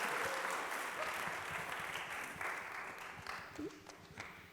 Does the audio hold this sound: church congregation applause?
yes